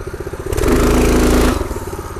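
A Predator 212cc minibike engine revving at half throttle, loud and close, a chugging idle swelling into a sustained roar for about a second before dropping back to a pulsing putter.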